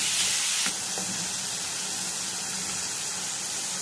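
Steady, loud sizzling of chopped onion frying with minced meat in a pan, a continuous hiss with faint stirring, for a béchamel pasta dish.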